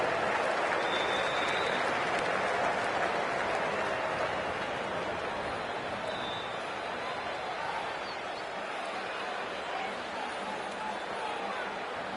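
Crowd applause in the Cricket 24 video game as a big hit flies into the stands, a dense, steady wash of clapping that slowly eases, with a commentator's voice running under it.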